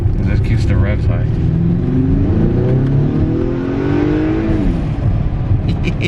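A 2021 Acura RDX with an HPS intake revving loud and close, engine pitch climbing and falling through a couple of throttle blips, with a brief hiss at the end.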